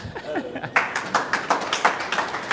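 A few people clap in quick, uneven bursts, fairly close, with some light voices mixed in at the start.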